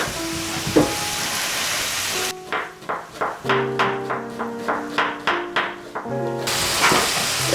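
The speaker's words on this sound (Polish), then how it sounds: "Trochę pokroję i trochę wrzucę na patelnię. A, już skwierczy." Chopped onion hits a hot frying pan while pork neck is prepared, with a loud, busy sizzle at first, then a run of sharp, rhythmic knocks and taps of a utensil against the pan before steady frying returns.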